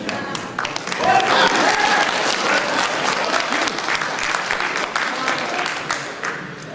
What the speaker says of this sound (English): Round of applause to yourself. Applause for the people.